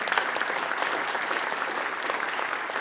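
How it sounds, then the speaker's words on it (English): An audience at a spring symposium on emerging technologies applauds its sponsors, a steady wash of clapping that fills the room for a few seconds with no talk over it. "A round of applause for all of our sponsors."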